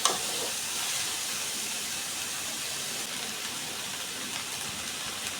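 Jackfruit and potatoes fry in a pan for a Bengali vegetarian curry, giving a steady, loud, close sizzle and hiss that runs unbroken the whole time with no talking.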